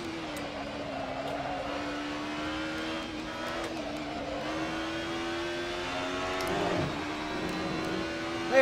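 A 1990s DTM touring car lapping Mugello in the Assetto Corsa racing sim: a steady, loud engine drone holding high revs, with pitch sweeps as it shifts and brakes, and a brief rise near the end, with no talking.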